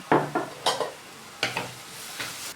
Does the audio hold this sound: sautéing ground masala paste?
yes